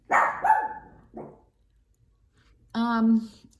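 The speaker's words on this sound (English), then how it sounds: "My dog sees my neighbor." A dog barks at the neighbor in a few sharp, close yips and barks, separated by pauses, with no one talking over them.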